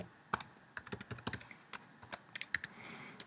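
Someone types code on a computer keyboard, a quick irregular run of crisp, close key clicks with brief pauses between bursts, heard alone without speech.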